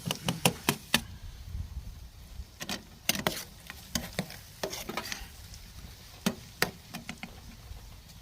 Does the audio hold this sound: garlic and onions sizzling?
yes